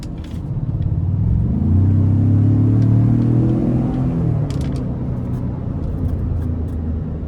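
A 2017 Ford F-150 Platinum pickup accelerates in sport mode, heard from inside the cab as a deep engine rumble that swells through the pull and then settles into a steady drone, with no talking.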